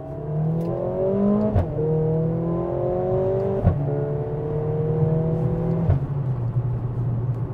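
A 2022 Mercedes-AMG GLA 45 accelerating hard from about 30 mph, its engine note climbing steadily through the gears with three sharp, quick upshift breaks; heard loud from inside the cabin with no talking.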